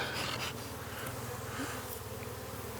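Bees hum in a dense, continuous drone from an opened mother beehive, close and steady with a low buzzing throb and no talking.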